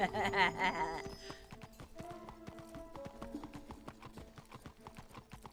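Horse hooves clip-clopping in the Wizard101 video game, a quick run of close, crisp hoof beats that slows to an even trot, with a brief whinny at the start.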